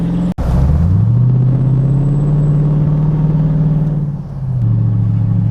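A truck engine rumbles steadily close by, with a brief sharp knock near the start and a low, even idle that dips slightly before settling again; no talking.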